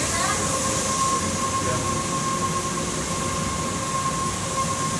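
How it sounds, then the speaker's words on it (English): Grain elevator leg running in a feed mill with grain pouring into a bin, a dense continuous rushing roar with a steady mechanical whine, loud and close, no voices. "There's the grain hitting the top of the bit, or the bottom of the bit."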